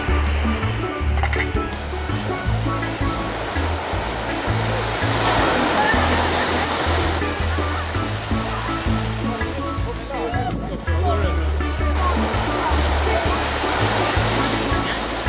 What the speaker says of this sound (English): we prepared ourselves with a swim in the ocean